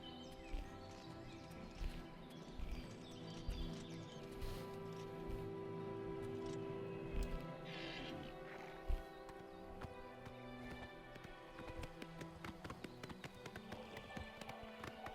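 Horse hooves clop in a steady running rhythm inside the video game Oblivion Remastered, moderately close over a busy bed of game ambience and music.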